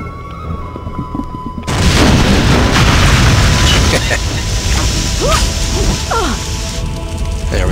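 In the TimeSplitters Future Perfect video game, a flare gun ignites spilled barrel oil in a sudden loud explosive burst, followed by a sustained roaring fire with crackles and short whooshing sounds.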